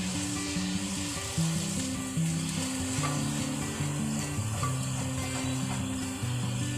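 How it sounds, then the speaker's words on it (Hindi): Chickpea curry ingredients fry steadily in hot oil until golden, a continuous dense sizzle with occasional spoon scrapes, close and even throughout with no talking. "अब जब तक ये गोल्डन नहीं हो जाता मैं इसको जो है वो ऑयल में पकाती रहूँगी"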